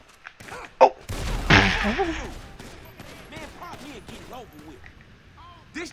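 Gunfire during a drug deal gone bad in GTA 5: a sharp crack, then a loud burst of shots that fades into scattered noise, with a voice talking and exclaiming over it.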